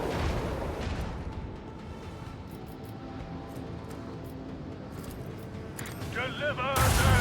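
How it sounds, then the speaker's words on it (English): Macro cannons firing in the space-combat game Warhammer 40k Rogue Trader, dense rolling booms and rumbling salvos under a steady battle din that swells near the end. "I want to hear the macro cannons roar!"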